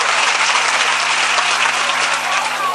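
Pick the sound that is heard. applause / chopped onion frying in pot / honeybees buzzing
applause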